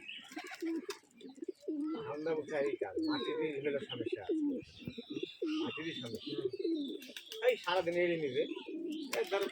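Rajshahi Giribaj pigeons coo repeatedly nearby in soft, throaty rolling calls, with light chirps and a flutter of wings mixed in while people talk in the background.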